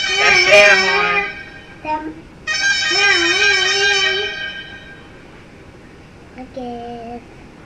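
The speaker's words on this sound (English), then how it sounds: "That's Air Horn." An air horn ringtone sounds as several loud, brassy blasts of uneven length, close to the microphone and separated by short pauses, with the last one fainter.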